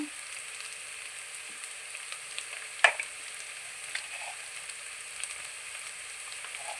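Onions fry with turmeric and salt in a pan, giving a soft, steady crackling sizzle nearby, broken by one sharp scrape of a spoon and a few lighter taps, with no voices.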